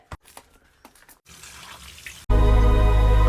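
Water bottles being washed with soap and water start with a few clattering knocks and a soft splashing rinse, then a strong running tap gushes loudly and steadily.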